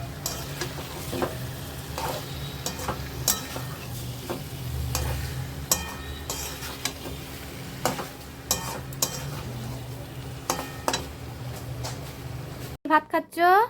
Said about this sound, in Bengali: এবার ভালো করে আমি মাংসটাকে কষবো যতক্ষণ না পর্যন্ত মাংসটা দিয়ে তেল বেরিয়ে আসে